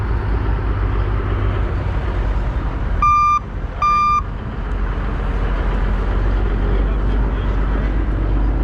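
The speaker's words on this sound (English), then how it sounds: "Backup beeper?" A big rig truck's backup beeper sounds twice, two sharp, evenly spaced electronic beeps over a low idling engine rumble, nearby and clear.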